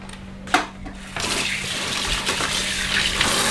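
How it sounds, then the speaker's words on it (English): Tap water runs steadily into a sink while hands are washed under it, a continuous hiss and splash that begins after a brief clunk and carries on alone to the end. "I'm just going to wash my hands now"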